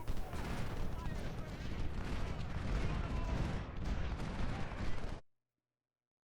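Union troops and artillery firing in the Ultimate General: Civil War game at the battle of Shiloh, a dense run of overlapping gunfire and booms that stops abruptly after about five seconds.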